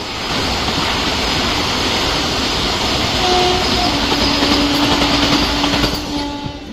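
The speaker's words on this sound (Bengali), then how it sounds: "আর ট্রেন এসে পৌঁছালো খড়গপুর স্টেশন।" A passenger train bound for Puri rolls along near Kharagpur with a steady, loud rumble and rattle of the carriages, constant throughout, with faint tonal squeals under the noise.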